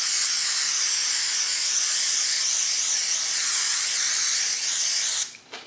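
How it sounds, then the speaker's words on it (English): A continuous close spray hisses for about five seconds from an aerosol can coating a surface inside a Chevrolet BrightDrop service van, then cuts off abruptly. "Just spray it down real good."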